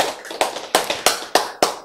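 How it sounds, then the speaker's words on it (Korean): Audience applause during a lecture-style Korean Bible class, coming as short bursts of sharp claps with quiet gaps between them, close and fairly loud. "박수"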